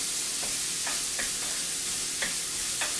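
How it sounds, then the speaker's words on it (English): Food stirred in a hot pan for keto bacon cheddar rolls, a constant sizzle under a few soft spoon scrapes at an uneven pace, close and alone. "I'm stirring that a little bit so it don't burn."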